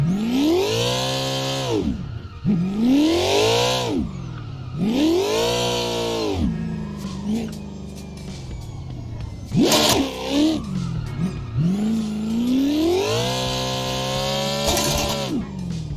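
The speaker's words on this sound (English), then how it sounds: "I ended up redlining it because I started to lose the drift, but I gave it too much gas to catch it" A drifting car in the Assetto Corsa racing game revs hard in repeated surges, the engine climbing to redline and dropping several times, with tyre squeal mixed in, loud and close throughout with no voices.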